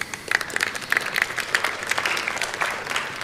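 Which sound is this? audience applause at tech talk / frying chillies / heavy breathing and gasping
audience applause at tech talk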